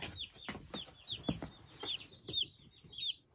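Newly arrived baby chicks in a brooder, a rapid run of high, thin peeps repeating close by with soft rustling and low clucks underneath.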